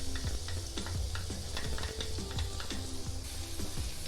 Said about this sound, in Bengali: ভালো করে নেড়ে ছেড়ে আমরা ভেজে নিব পেঁয়াজগুলোর কালার ব্রাউন হওয়া পর্যন্ত।